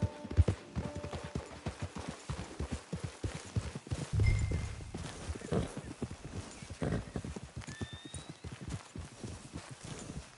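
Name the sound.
horse hooves clip-clopping in a video game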